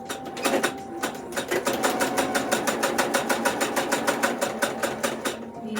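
A sewing machine stitches a quilt in a steady, rapid mechanical rhythm of evenly spaced needle strokes, close and continuous with a brief slowdown at the start and end.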